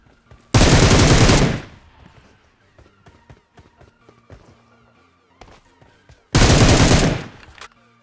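Two loud, sustained bursts of automatic M762 rifle fire in the PUBG Mobile game, each lasting about a second, separated by a quieter stretch of light clicks and footstep-like taps.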